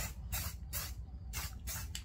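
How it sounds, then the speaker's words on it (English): Short bursts of hissing spray from an aerosol spray paint can, about four quick sprays in a row, close and fairly loud. "I'm going to go ahead and make sure this is spraying good."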